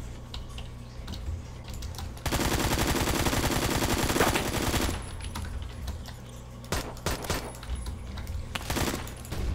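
An AK-74 fires in the video game Phantom Forces, a sustained burst of rapid automatic gunfire lasting a few seconds, with lighter clicking and scattered shots before and after.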